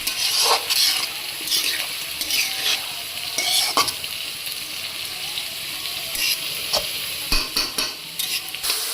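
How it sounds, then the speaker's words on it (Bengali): Kalai saag greens with turmeric being stirred and fried in a wok-style pan, loud close sizzling with busy scraping and tossing of the spatula, bursts of clatter now and then, no voices. "ভালো করে মিলে কেড়ে ভালো করে নাড়তে হবে"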